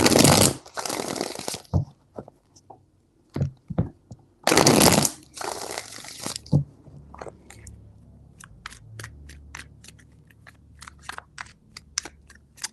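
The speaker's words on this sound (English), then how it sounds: "Three shuffles." Tarot deck shuffled by hand, two long loud riffling bursts followed by a run of quick crisp card taps and flicks, close up with no talk.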